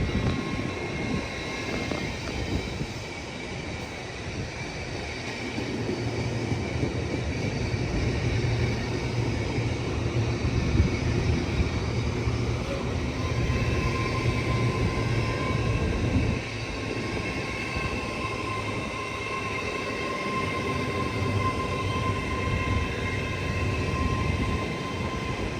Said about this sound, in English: here we have an LNER Zoomer going to London King's Cross